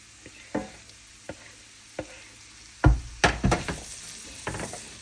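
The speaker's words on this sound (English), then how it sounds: "And then I'm going to go ahead and add my shrimp also." Shrimp go into a pan of vegetables for a seafood quiche, bringing soft sizzling and several sharp utensil knocks and clatters, with a cluster of louder hits near the end.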